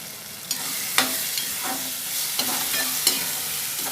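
Paneer bhurji gravy fries in oil, giving a steady close sizzle with soft scraping clicks of stirring every half second or so.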